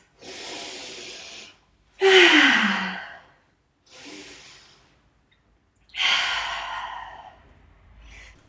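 Slow, deep breathing up close during yoga: two full cycles of a long inhale followed by a heavier, sighing exhale, with silence between breaths.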